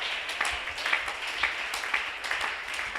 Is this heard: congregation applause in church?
yes